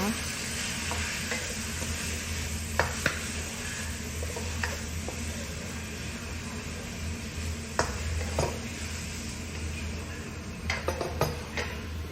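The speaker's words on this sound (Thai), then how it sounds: "เราก็ใส่คะน้าลงไปเลยค่ะ แล้วก็ผัดนะคะ ผัดให้สุกเลยนะคะ" Pork and Chinese kale sizzle steadily in a hot wok while a utensil scrapes and clinks against the metal now and then, close up with no talking.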